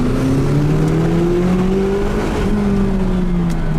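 McLaren 570GT accelerating hard on hot, smooth asphalt, its engine a loud, steady rising drone with a climbing pitch, heard close from inside the car and without talk.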